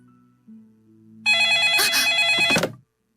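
A telephone at home rings with a bright, metallic bell burst that lasts about a second and a half, loud and close after a short quiet hum.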